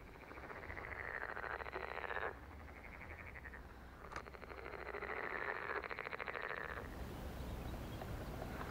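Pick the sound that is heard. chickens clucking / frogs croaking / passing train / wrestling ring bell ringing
frogs croaking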